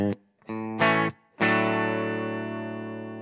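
Electric guitar through a clean amp, played as a few short sustained chords and then one long ringing chord that slowly decays, harmonically rich and close, with no talking.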